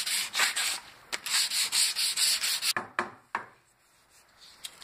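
Hand sanding along the edge of a wooden jig: a run of rhythmic, raspy strokes up close, then a few scattered scrapes and knocks as the work slows.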